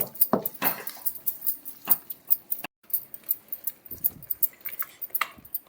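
A spoon mashes cooked toor dal in a metal pot in a string of irregular clinks and soft thuds, close and fairly loud, with one short pause partway through. Nobody speaks.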